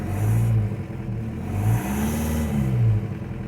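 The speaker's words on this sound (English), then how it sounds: "Alright, just got it fired up here." A newly installed TDI diesel engine in a Toyota runs just after starting, a close steady engine drone with a few swelling revs rising and falling.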